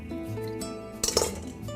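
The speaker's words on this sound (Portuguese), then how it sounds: "Eu vou usar esse batedor aqui porque eu estou usando uma panela de alumínio" A silicone-coated whisk stirs and clinks against an aluminium pan while cooking a coconut pavê custard, giving soft scraping with a short cluster of sharper metallic taps close by; no talking.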